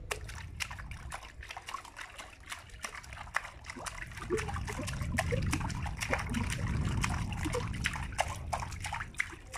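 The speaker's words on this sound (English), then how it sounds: "it's called water drum. So it's either you can play in the water" Someone plays a water drum in water, making a quick run of sharp wet taps and splashes over a low, sloshing rumble that swells partway through.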